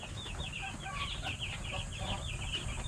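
Chicks peep and chirp continuously in a coop, with a cluster of high, rapid calls overlapping close by in a steady chorus under low background noise.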